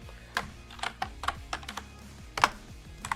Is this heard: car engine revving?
no